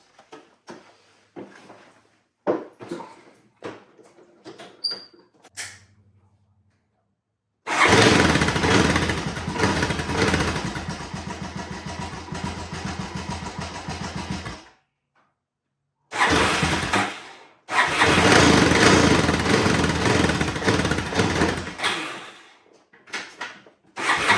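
A four-wheeler ATV clicks and rattles a few times, then its engine catches and runs steadily for several seconds, cuts out, and starts up again to keep running loudly close by.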